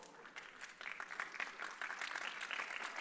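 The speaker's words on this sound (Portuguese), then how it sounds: "Puxaram palmas." Applause from a church congregation at a worship service, a steady patter of many hands building slightly and continuing for a few seconds at moderate distance, fairly faint overall.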